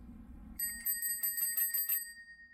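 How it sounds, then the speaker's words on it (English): A hamburger-shaped bell on a bicycle rung about seven times in a quick bright ringing burst, close and clear over low background rumble, then fading out. "Every Margaritaville bike has to have a hamburger bell."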